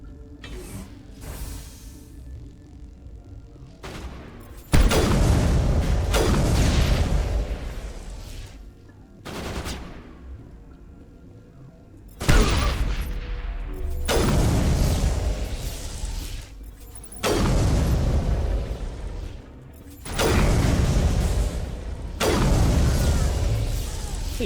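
Combat in the Mass Effect video game brings repeated bursts of gunfire and booming explosions, loud clusters separated by brief lulls, with mechanical creaks between the volleys.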